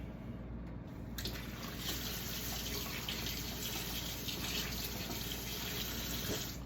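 Water runs steadily from a tap to rinse something at a sink, with a continuous close splashing flow that starts about a second in and carries on to the end.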